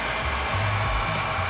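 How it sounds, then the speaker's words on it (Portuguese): A heat gun blows steadily, a constant loud airy whoosh, while heating vinyl wrap on a refrigerator edge; the hum holds even with no voices. "eu vou vir com o soprador"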